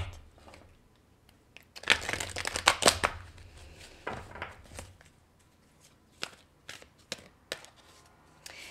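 Oracle cards from the Sphinx de Delft deck being shuffled by hand, a dense crisp riffle of papery slaps building for about two seconds, then softer scattered card flicks and taps, close and quiet with no talking.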